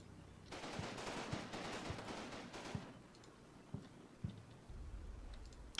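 Gunfire in the Combat Mission war game, Market Garden scenario: a dense crackle of distant shots for the first few seconds, then thinning to a few sharp, isolated reports.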